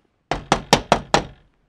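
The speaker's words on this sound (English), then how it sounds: "A policeman knocked on the door." Five firm, evenly spaced knocks on a door ring out loud and close, each a sharp thud, with no voices.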